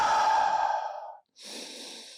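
A long, steady exhale during a gentle stretching exercise for sciatica relief, followed by a short pause and a softer breath, close and quiet with no talking.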